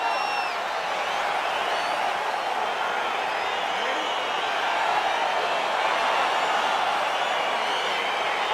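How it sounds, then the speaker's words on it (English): Arena crowd at a UFC fight in EA Sports UFC, a broad sustained roar of cheering and whooping that swells slightly midway, with commentators talking over it. "crowd getting excited as this fight gets underway"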